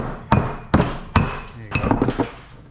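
A hammer strikes metal parts in a shop during scrapping: three sharp, ringing blows spaced roughly half a second apart, followed by a quicker cluster of lighter clinks and knocks, close and loud.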